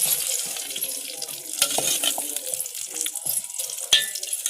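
Village-style jaggery sweet batter frying in hot oil, a soft continuous sizzle and bubbling crackle with occasional sharper pops and clinks of a utensil against the pan.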